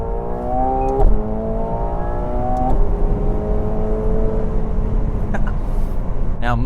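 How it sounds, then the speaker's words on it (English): McLaren 750S in sport mode on a highway, its engine droning loud and close with rising harmonic tones as it accelerates, shifting gears around one and two and a half seconds, with a steady road rumble underneath. "So going back into sport mode, you'll really notice the difference of the exhaust note."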